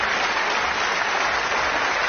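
Sustained applause from a snooker crowd, steady and dense for the whole stretch, with no voices standing out above the clapping.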